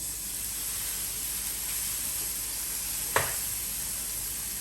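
Steak laid seasoned side down in a smoking-hot pan, giving a steady broadband sizzle throughout with one sharp crackling burst as the meat hits the oil.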